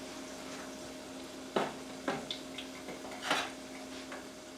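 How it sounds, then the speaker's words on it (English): Potato cakes frying in a cast iron pan, with a steady soft sizzle throughout and several sharp clinks and scrapes of a utensil against the pan. "I'll check it out for doneness while I fry up the rest of these"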